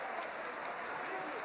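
Venezia basketball fans in an arena applaud an injured player, a steady wash of clapping heard from across the hall, even and sustained for the whole moment.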